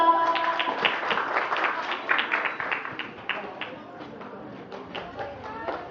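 Scattered hand clapping from an audience at a school awards ceremony, moderate and steady for several seconds, with no talk over it.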